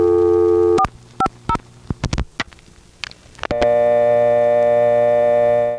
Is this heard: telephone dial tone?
yes